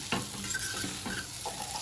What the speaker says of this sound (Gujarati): ગવારનું શાક આવું થઈ ગયું છે અને હવે આમાં પાણી નાખીને